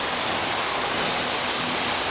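Waterfall beside the Appalachian Trail near the 19E road crossing, a loud, constant rushing roar of falling water that fills the whole stretch with no break.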